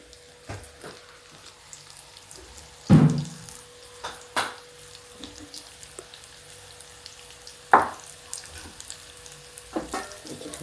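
Onion bhajiya pakoras fry in hot oil, a low steady bubbling hiss broken by several sharp splashes and clinks as batter goes in or is moved, close by, without speech.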